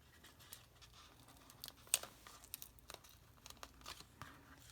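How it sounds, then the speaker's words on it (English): Tape being handled and pressed onto Christmas decorations, soft crinkling and a few brief tearing crackles close by at low volume, no speech. "And put the tape on it."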